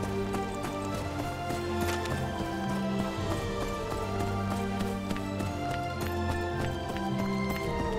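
Horse hooves clip-clop at a steady gallop while riding in the online role-playing game Echo of Soul, the rhythmic footfalls running continuously under a full, dense layer of game music.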